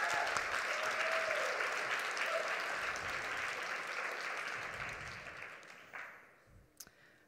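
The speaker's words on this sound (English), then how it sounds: "If you could give them each a round of, or all of them a round of applause to show your gratitude." Sustained applause from an event audience for the programs team and coaches at a founders competition finale, many hands clapping steadily before tapering off into a few isolated claps and small noises.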